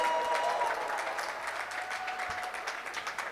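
A crowd at a roller derby bout, Dom City Dolls against Les Divines Machines, cheers and applauds for Nantes Roller Derby. The clapping is steady and somewhat distant, with a faint whistle near the start.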